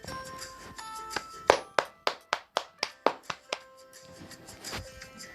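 A single person alone at home claps their own hands, about ten sharp, evenly spaced claps in a quick run, close and loud, with quieter sounds before and after.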